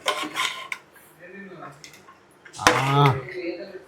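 A cabbage and chana dal curry being stirred in a cooking pot before the lid goes on, with brief scraping and clanking of utensil and metal, a louder clatter near the end, and a voice talking in between.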